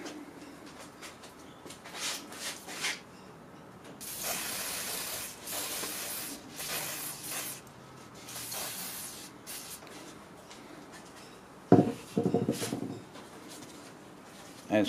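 Spray lubricant hisses onto a part of a Talon/McCulloch two-stroke petrol blower vacuum in several close bursts, the longest lasting a few seconds, with short clattering handling sounds and someone talking in between.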